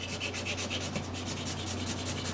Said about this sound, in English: we'll do a little sanding and see what we get